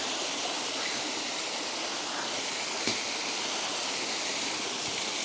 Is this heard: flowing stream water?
yes